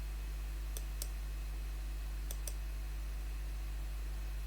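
Computer mouse buttons click in two quick pairs, sharp and close against a quiet background hum.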